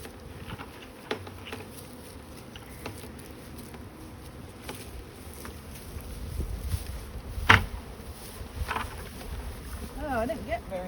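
A honeybee swarm buzzes as a soft continuous drone outdoors with wind, with scattered rustles and knocks nearby and a few individual bees passing close.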